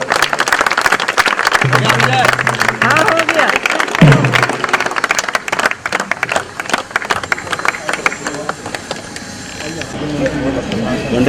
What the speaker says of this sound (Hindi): ताली तो बजाओ आप लोग।